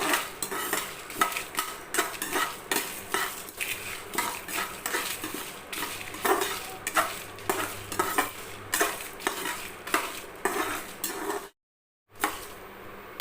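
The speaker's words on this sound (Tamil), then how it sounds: "இப்போ வந்து இந்த மசாலாவை வறுத்து எடுத்துக்கலாம் எண்ணெய் ஊற்றுறேன்னா அப்படியே வறுத்துக்கோங்க" Masala roasting in oil on a tawa, with steady rhythmic scraping and stirring strokes against the metal over a soft sizzle, close and continuous, then a brief silent gap near the end.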